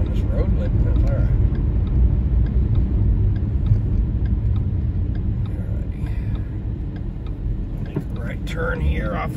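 Car driving at about 40 down a road at night, a steady, loud low-pitched engine and road rumble from inside the cabin, with faint ticking and someone talking over it.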